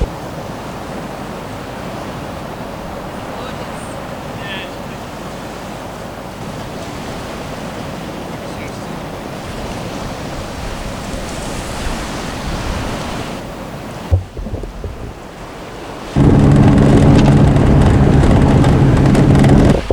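Surf rolls in at Loblolly Beach as a steady, loud wash of broken waves with a constant rushing roar, then a brief thump and a sudden stronger blast of wind buffeting the microphone near the end.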